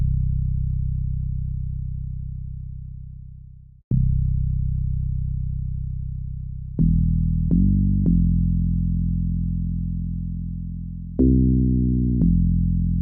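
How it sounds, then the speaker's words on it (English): Chill synth bass line from a track in the Shrimp Game soundtrack, sustained low notes that shift pitch with walking and sliding moves and brief attacks, playing alone and steady throughout. "The bass sounds like this."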